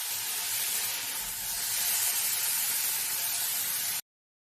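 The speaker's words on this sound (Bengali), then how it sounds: "এখন ভালো করে ঢ্যাঁড়সের সাথে ভালো করে নাড়িয়ে চাড়িয়ে নেব।" Okra tossed with ground garlic, nigella seeds and green chilli in a hot pan gives off a steady, fairly loud sizzling hiss that cuts off abruptly.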